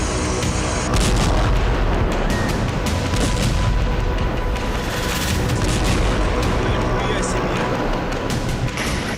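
Explosions from Russian missile strikes in Lutsk, western Ukraine: loud, heavy booms and blasts over a rumbling, continuous din, with repeated sharp impacts.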